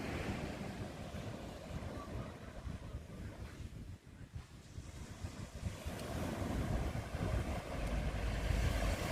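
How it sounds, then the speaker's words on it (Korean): Surf rolls steadily onto the sand at Imrang beach in Gijang, a continuous broadband wash with rising and falling swells, mixed with gusty wind buffeting the microphone and no voices. "운동 겸 시험 촬영차 지금 인랑 해수욕장에 왔습니다."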